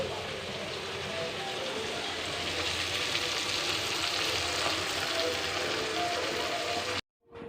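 Oil crackles and sizzles steadily in a pan while onions and chicken curry spices are cooked, a dense, loud hiss throughout that cuts off abruptly at the end.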